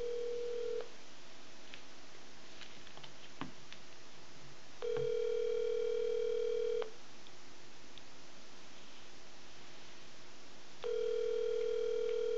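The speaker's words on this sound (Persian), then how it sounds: "این تلفن اپل" An Apple telephone sounds a steady dial tone that comes on and off in long blocks, three separate bursts of a few seconds each with quiet gaps between.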